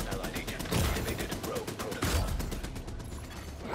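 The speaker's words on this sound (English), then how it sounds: "Oh, the turrets, the turrets." Rapid rattling turret gunfire in a video game, loud and continuous with dense repeated bursts, overlapping a speaking voice.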